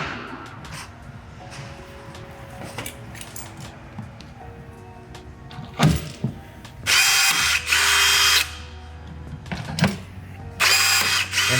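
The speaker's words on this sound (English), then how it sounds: "I'm putting in my rivet. So I've locked it into position and I'll crimp it." A rivet is set and crimped into 3/16 holes in a composite side rocker on a 2020+ C8 Corvette. Several loud, sharp tool bursts of one to two seconds stand out over a low mechanical hum nearby.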